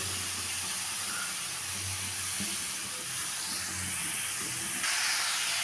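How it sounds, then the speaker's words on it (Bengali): Grated papaya sizzles in hot oil, a dense, steady hiss of frying that stays loud and even throughout, close up, with faint clinks in the background and no talk. "তেলটা গরম হয়ে গেছে পেঁপেটা দিয়ে দিলাম"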